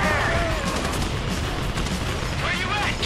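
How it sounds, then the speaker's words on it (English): Dense, continuous bursts of gunfire and explosions during a heist shootout in Grand Theft Auto V, loud and close, with voices shouting faintly beneath the barrage. "You hear that gunfire?"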